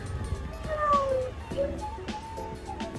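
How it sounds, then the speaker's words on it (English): A cat meows several times at close range in a Dutch cemetery in Fort Kochi, with short, wavering cries spread across a few seconds against quiet outdoor background. "there's a cat lying at the grieving moments of its owner"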